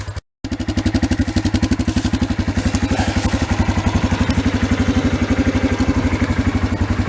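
A Yamaha Kodiak ATV engine runs while riding, a steady, close, rapid pulsing thump with mechanical clatter that holds an even pace throughout after a brief cut at the start.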